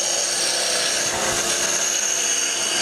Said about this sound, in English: You'll notice I use the little end of my parting tool here as kind of a skew